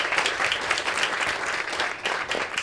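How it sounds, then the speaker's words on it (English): Audience members at a live panel discussion applaud for an organizer, a brisk, full burst of many hands clapping close and loud, continuing without pause. "can we just give a special round of applause to Jill for organizing all of this"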